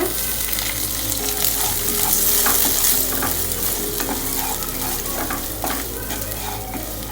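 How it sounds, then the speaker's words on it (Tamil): Onions frying in hot oil for a Tamil brinjal gravy (ennai kathirikkai thokku), a steady close sizzle with stirring scrapes and faint watery crackle running throughout, no talk. "இப்போ இந்த ஆயில்லையே ஆனியன் போட்டுக்கோங்க."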